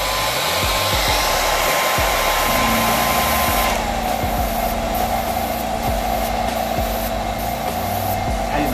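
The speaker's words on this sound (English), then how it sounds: "Blow dryer." A hair blow dryer runs continuously to dry an airbrushed hoodie, a loud steady whoosh that shifts pitch slightly partway through as it is moved over different spots.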